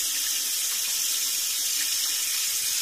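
Running water from a kitchen tap pours steadily into a bowl of rice being rinsed, a continuous close, bright splashing rush with no voices.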